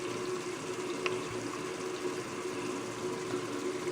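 Steady running water from a tap rinses a soapy makeup brush, a continuous close hiss and splash with no pauses.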